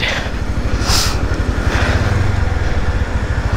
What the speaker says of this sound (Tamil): ஜஸ்ட் நான் அங்கேருந்து ஒரு ரேவ் பண்ணி பார்க்குறேன் வண்டி எப்படி இருக்குது அப்படின்றத